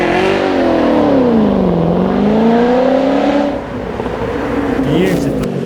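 A 550-horsepower Ford GT supercar engine roars on a race track, its loud, sustained note sweeping down and back up through gear changes before easing off as the car passes.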